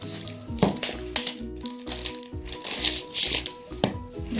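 Packaging of an Apple Magic Keyboard 2 being opened: close, steady crinkling, rustling and tapping of cardboard and wrap across several seconds, with no one talking over it.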